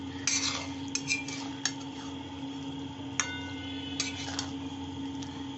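Bottle gourd curry with coconut milk being stirred in a pan over low heat, a few sharp metallic spoon clinks against the pan at irregular intervals over a low steady hum, close and without talk.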